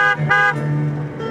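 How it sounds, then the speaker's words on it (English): A car horn sounds close and loud in two short toots followed by a longer blast, all within about a second and a half. "gonna make sure and honk at the neighbors over here, Jeff and Delana."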